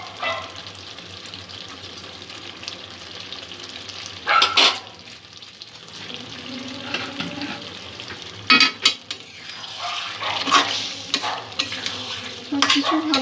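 A spoon stirs an aloo spinach curry with ghee and garam masala in a pan, scraping and clinking over a steady sizzle, with a few louder strokes against the pan.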